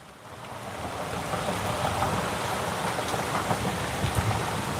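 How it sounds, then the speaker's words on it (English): Steady late-afternoon rain falls on an outdoor town square, a dense continuous hiss that builds slightly in the first second and then holds, with scattered nearer drops and no voices. "This is a classic late afternoon rain."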